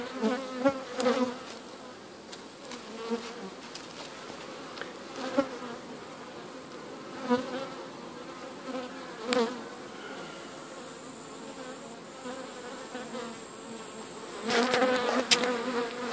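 Honey bees swarm around a barrel top bar hive in July, a steady close buzzing that swells as individual bees pass near, with no voices.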